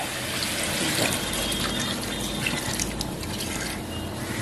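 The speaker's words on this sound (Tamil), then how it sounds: "இப்போ இதில் வந்து நம்ம கொஞ்சமாக தண்ணி ஊற்றி வேக வைக்க போகிறோம்" A little water pours steadily into a pan of cooking chicken with a continuous splashing rush and a few faint drips and clinks.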